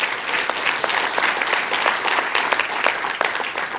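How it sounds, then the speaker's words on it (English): Audience applause in a city council chamber during an awards recognition, a loud, dense burst of clapping held steady throughout. "Another round of applause for him as well."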